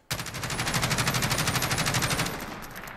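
An MG433 machine gun in Call of Duty Modern Warfare fires one sustained, rapid automatic burst lasting nearly three seconds, loud and close, with evenly spaced shots and no talk.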